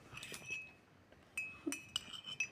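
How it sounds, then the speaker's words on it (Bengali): A metal utensil clinks against a cooking pan while spices are stirred in for matar paneer, a few light, scattered taps and rings at close range against a quiet background. "দিয়ে দেওয়ার পরে একটু নেড়ে নেব"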